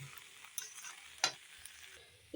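Jackfruit curry with chickpeas is stirred and fried in a pan, giving a quiet continuous sizzle broken by a few sharp spatula scrapes, close and alone.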